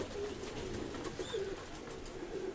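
Young domestic pigeons coo softly nearby, a few low throaty calls rising over a murmuring background, with no speech.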